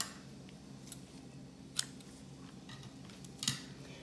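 A few quiet, crisp scissor snips cut thread while handmade soap for special occasions is decorated, two sharper cuts standing out over faint background hiss.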